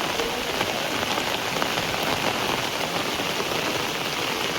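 Steady rain pours down during a vehicle wash, a dense, even hiss of drops striking surfaces that stays constant throughout with no voices.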